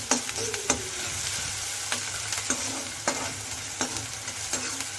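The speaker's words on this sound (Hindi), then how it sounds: "अब इसमें हम प्याज डालेंगे। इसको चलाएंगे।" Chopped onions fry in hot oil in a pan for veg momos while a spatula stirs them, with regular scraping strokes over a steady, close sizzle.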